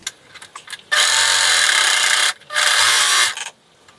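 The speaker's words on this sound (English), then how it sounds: "I'm going to sew this seam with a 3/8 inch seam allowance, and I'm going to use either a serger or a zigzag stitch" Serger or sewing machine zigzag stitching a headband seam, two steady bursts of fast whirring stitching separated by a short pause, close and loud with no talk.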